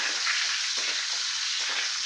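Dried red and green chilies fry in hot oil with cumin and fennel seeds, giving a steady, close crackling sizzle that holds at an even loudness throughout.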